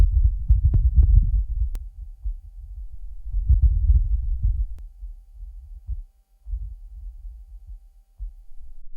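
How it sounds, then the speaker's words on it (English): Wind recorded on Mars: a faint, low, rumbling buffeting that swells and fades in uneven gusts, with brief lulls, and nothing else heard. "That's the sound of the wind on Mars"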